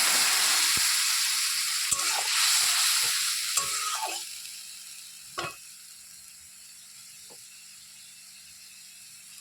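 A ground spice paste of coriander, cumin and ginger hits a frying pan and sizzles loudly at first, with stirring scrapes and knocks, then settles into a quieter, steady fry.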